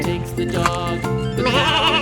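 A goat at a farm in Pathum Thani, Thailand, lets out wavering bleats one after another, close and fairly loud, with the calls running on and overlapping.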